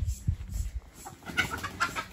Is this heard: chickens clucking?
yes